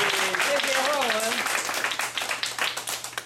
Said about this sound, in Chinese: 来宾掌声鼓励